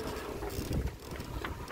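Wind and waves rush around a sailboat at sea, a rough, close, low-pitched roar with buffeting gusts across the microphone.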